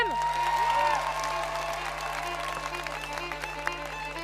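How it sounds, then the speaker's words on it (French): An audience at a youth programme session applauds a young presenter being called up, with steady clapping and a few scattered cheers over a constant low electrical hum, the clapping thinning slightly toward the end. "Vous pouvez applaudir Bersem"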